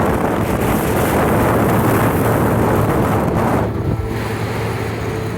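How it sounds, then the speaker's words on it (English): Loud, roaring wind at a fire tower, gusting near 60 km/h, buffets the microphone in heavy, sustained gusts, easing slightly near the end but never dropping away. "So as you can see, it's a pretty windy day."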